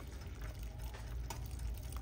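A thickening mixture is poured into a peach cobbler, a soft continuous liquid splash and trickle that stays fairly steady throughout.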